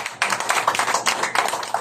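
A small audience at a meeting of national religious group leaders claps in a brief, uneven burst of hands, close and fairly loud, lasting under two seconds.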